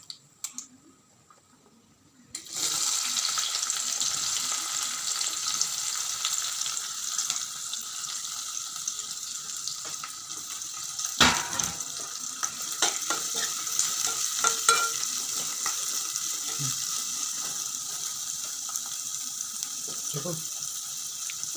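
Sliced onions deep-frying in oil in a pan, a quiet start then a sudden, steady, bright sizzle that carries on, with occasional clinks and scrapes of stirring, no talking.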